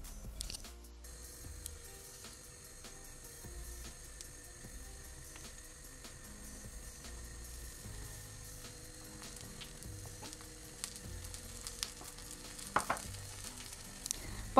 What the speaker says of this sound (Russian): И будем обжаривать их с двух сторон на подсолнечном масле.